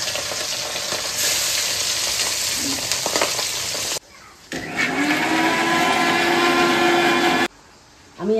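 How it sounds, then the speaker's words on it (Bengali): Pieces of fish bubble and sizzle loudly in hot oil in a kitchen wok, a continuous close crackling hiss that briefly drops away twice as if the mic cuts, then returns just as strong. "মাছগুলো ফুটছে।"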